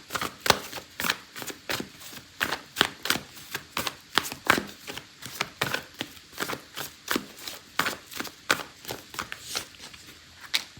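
A deck of oracle cards is shuffled by hand for a tarot reading, giving a steady run of crisp, close riffling snaps and slaps at a quick, even rhythm, with no voice over it.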